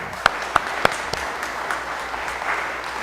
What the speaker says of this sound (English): Please give her a round of applause, Sandra Wong